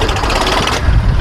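A VST Shakti 9054 DI tractor with a Kirloskar engine runs under load in third gear, giving a loud, steady, rumbling drone with no talking.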